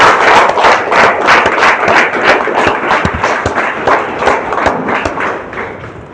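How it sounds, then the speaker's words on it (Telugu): An audience gives a burst of hand clapping for several seconds, dense and close, slowly fading toward the end, with no one talking over it. "ఎస్, క్లాప్ చేయొచ్చు"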